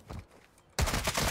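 Video game gunfire erupts suddenly as a dense burst of rapid shots, loud and close, after a quieter stretch of distant shooting.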